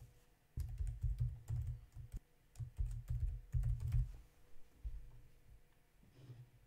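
Typing on a computer keyboard while entering a project name, with bursts of quick, soft key clicks and short pauses between them, close and fairly quiet.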